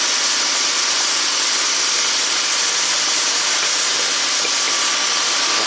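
A 2017 Audi Q7 turbo engine idles at about 1700 RPM with a suspected torn diaphragm and a vacuum leak, giving a steady, close mechanical hum with a hissing, airy wash over it and no change throughout.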